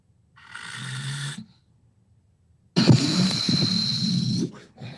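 A person snoring in an odd, unusual style: two long rasping, wheezy breaths separated by a silent pause, the second louder and rougher, close and alone.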